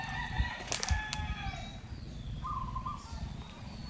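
A rooster crows faintly in the distance along with other bird calls, over a low rumbling background.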